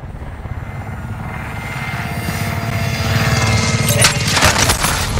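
A support helicopter in the video game Modern Warfare thrums with a steady rotor rumble that swells louder, joined near the end by sharp bursts of gunfire.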